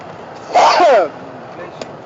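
A single sharp sneeze, close and loud, cutting through a steady background hum.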